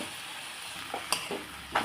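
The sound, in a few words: soaked tamarind with water added to sizzling pan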